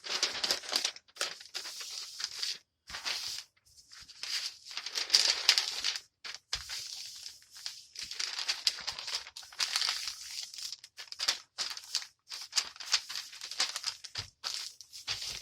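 Blank newsprint paper is crumpled and crinkled for packing a shipment, in repeated bursts of dry rustling with short pauses between, close and fairly quiet, with no talking.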